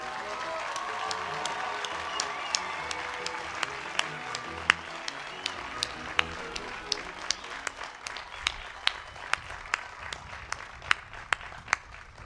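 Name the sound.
applause for the new graduates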